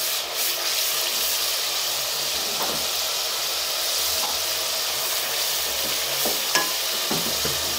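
Split chickpea lentils and pumpkin sizzle in a pan as spoonfuls of fried onion are added and stirred in; a dense, steady frying hiss continues throughout with soft intermittent scraping strokes, close up and without speech.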